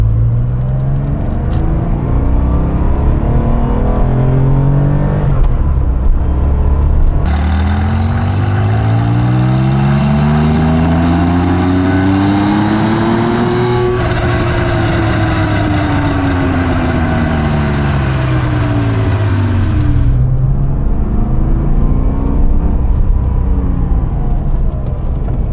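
A modified 1979 Porsche 911 accelerating hard, heard up close. Its engine note climbs steadily through repeated rising revs with brief dips between shifts, loud and alone with no talk.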